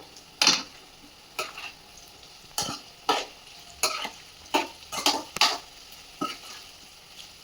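Bitter gourd with garlic and curry leaves stirred in a pan, a spatula scraping and clacking in about a dozen separate strokes over a quiet background sizzle.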